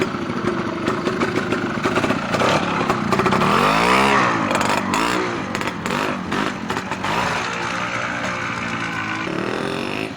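BSA Bantam motorcycle ridden on a trials course, its engine revving and labouring steadily close by for the whole stretch, with rising and falling pitch as the rider works the throttle, loud and continuous with no talk.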